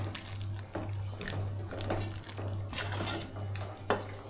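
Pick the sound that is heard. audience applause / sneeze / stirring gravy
stirring gravy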